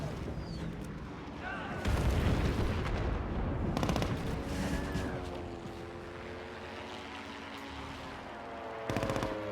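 Bursts of rapid gunfire and booming bombardment in Civilization VII's modern age, loud clusters of shots around the start and middle and again near the end, with a lower rumble and faint tonal sounds in between.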